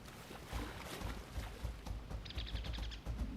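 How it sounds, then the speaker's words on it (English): Birds chirp in the ARK Ragnarok video game, with a short run of quick, bright repeated tweets over a steady low ambient background, faint and without talk. "I hear you, birds."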